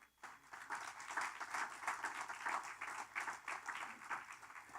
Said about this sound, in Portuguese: Se você crê, dê uma salva de palmas a Ele.